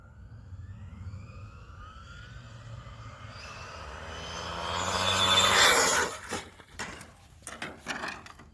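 An Arrma Limitless V2 RC car on a speed run rushes past, its motor whine climbing as it nears, peaking loud, then dropping off into scattered clatter.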